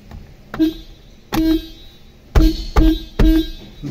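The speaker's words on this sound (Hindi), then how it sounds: "देख पा रहे हैं हॉर्न की आवाज़ आ रही है आपको" Short horn blasts from a Suzuki Dzire during an airbag clock spring replacement, five brief loud honks in an irregular series, sounding alone close by.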